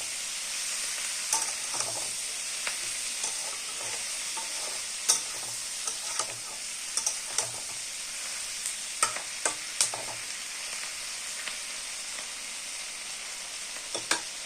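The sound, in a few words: frying paneer for chilli paneer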